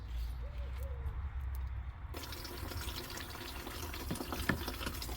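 Liquid plant treatment poured into a garden sprayer tank: a quiet low trickle at first, then a steady broadband splashing gush that continues to the end, close and fairly faint.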